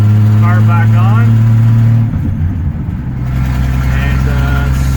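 A 1966 Ford Mustang with a leaking exhaust manifold gasket drives with a loud, low engine drone that dips briefly and then picks back up, with a voice talking over it.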